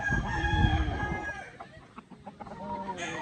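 Chickens cluck in short bursts over a low farmyard murmur, with a long, drawn-out crowing call at the start.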